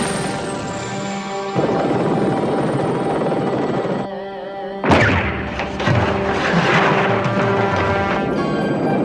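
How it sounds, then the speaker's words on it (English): Helicopter in an animated episode, a loud steady rotor and engine drone that cuts out briefly and then returns with a sharp blast or thud and continued whirring. "Get the rocket launcher! Bring down that chopper!"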